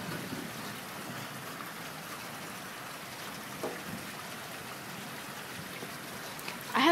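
Steady, faint rain patters continuously with a soft hiss, and no voices.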